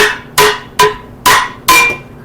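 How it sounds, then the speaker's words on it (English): Four sharp metallic hammer strikes on upper A-arm bushings of a 1958 Plymouth ring out at a steady pace, each with a bright clang that decays quickly before the next blow. "I just grab any kind of hammer and give them a couple smacks."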